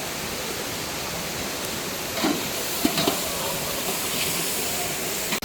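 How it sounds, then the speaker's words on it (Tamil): Broadband rushing water from a waterfall, a steady dense hiss filling the whole clip with a few slight surges midway, no talk over it. "இந்த நீர்வீழ்ச்சியை பார்த்து என்ஜாய் பண்ணுங்க"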